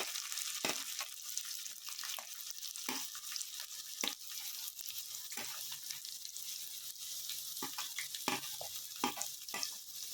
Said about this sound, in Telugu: ఇవి కొంచెం ఫ్రై అవ్వాలన్నమాట, మనకి బాగా కొంచెం ఫ్రై అవ్వాలి.